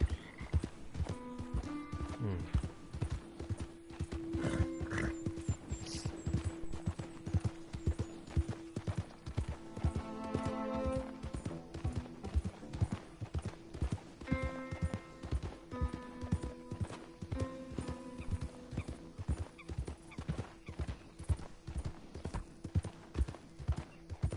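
A horse's hooves clip-clop at a steady, even trot in Red Dead Redemption 2, close and continuous, with tonal ambient game sounds and a brief whinny-like call layered underneath.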